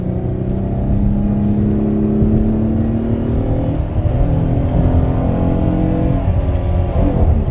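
A car in performance mode accelerates, its engine heard from inside as a loud, continuous rising drone with road noise, shifting pitch partway through, no talk over it.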